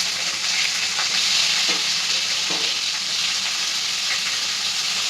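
Onion that has been fried in a pan sizzles steadily and loudly as tomatoes are added, with a few soft clunks and scrapes rising above the constant hiss.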